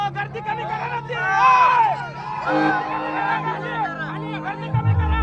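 A crowd gathered at a band opening performance in Chadwad makes a loud, busy hubbub of overlapping voices and shouts, close by and continuous.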